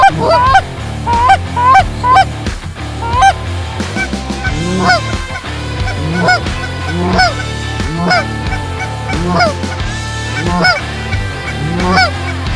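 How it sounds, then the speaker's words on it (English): A big goose honking loudly and close by, a steady run of nasal honks in an uneven rhythm that continues for several seconds with no talking. "it's a big goose"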